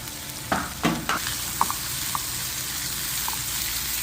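Red and green peppers frying in olive oil in a pan, a continuous soft sizzle with a few clattering stirs near the start and small pops afterward.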